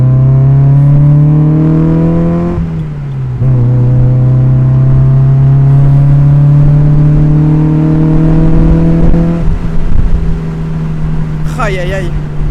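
A Mazda MX-5 NA roadster drives along a smooth road, its engine droning loudly and steadily with shifts in pitch as it changes speed, and a voice comes in faintly near the end.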